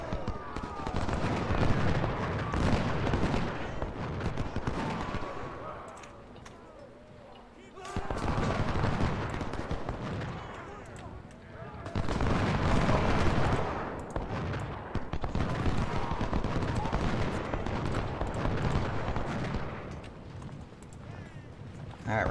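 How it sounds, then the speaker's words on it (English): Continuous musket volleys and artillery salvos rumble through a Civil War strategy battle at Fredericksburg in Ultimate General: Civil War, dense crackling gunfire in long waves with a brief lull, while a voice talks over it. "Our salvos aren't doing anything."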